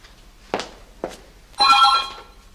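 A telephone rings with one bright electronic trill burst, preceded by two dull thumps nearby in a quiet room.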